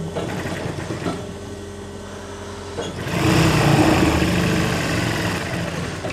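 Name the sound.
sewing machine stitching kameez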